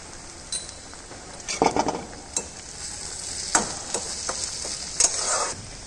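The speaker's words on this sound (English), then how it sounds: "saute onions till it become light golden brown in color. Now we will add chopped garlic and chopped ginger." Onions, chopped garlic and ginger sauté in a pan with a steady sizzle, broken by several sharp scrapes and clinks of a utensil stirring against the metal, close and fairly loud, with no talking.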